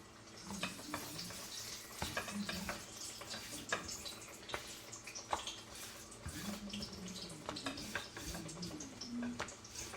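Pişi dough rings sizzling in hot oil, a steady bubbling crackle with scattered sharp pops throughout, close and fairly quiet with no talking.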